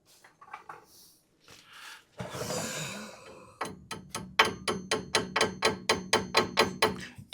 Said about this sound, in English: Oh, the hammer.